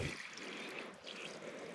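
Water is poured to make tea on a cold night of van camping on a National Forest road, a quiet, close, steady trickling stream heard on its own.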